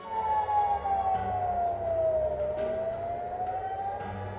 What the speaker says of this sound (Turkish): Aşdod, Aşkelon ve Berşeva'da yoğun siren sesleri duyuldu.